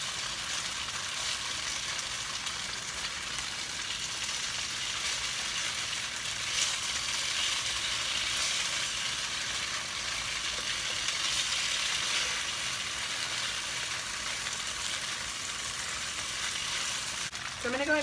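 Green beans for a Szechuan-style dish frying in oil in a pan, a continuous bright hiss and crackle that stays steady and fairly close, with no break.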